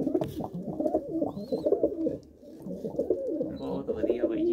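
A pair of loft pigeons, a breeding pair that has raised a chick, coos in a steady low, throbbing stream that runs the whole time, close by and fairly loud, with a few faint higher chirps over it.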